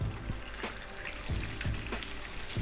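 Chiles sizzling in hot oil in a Tex-Mex kitchen, a steady crackling fry punctuated by small splashes and stirring knocks, close and without talk.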